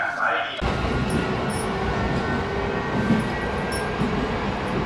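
A JR Sagami Line E131 series train rumbles into a Japanese station, a steady low mechanical roar with squeals and clanks, while a recorded Japanese announcement voice plays over it.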